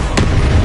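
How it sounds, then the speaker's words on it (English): Expelliarmus spell cast in the video game Hogwarts Legacy, a single sharp, loud burst like a firework crack that hits suddenly, then leaves a low rumbling tail. "Expelliarmus!"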